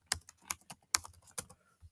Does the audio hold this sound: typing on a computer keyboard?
yes